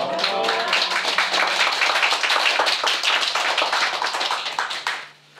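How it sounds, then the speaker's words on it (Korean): Audience applause at a lecture hall talk, a dense, steady burst of many hands clapping close and loud for about five seconds, then quickly dying away at the end. "늘 이렇게 박수 소리를 받아서 마땅한지"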